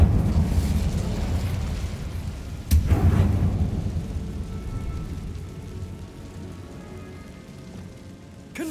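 Incendio fire spell in Hogwarts Legacy: a sudden whooshing burst near three seconds rising over a steady crackling, rain-like roar of flames that slowly fades away.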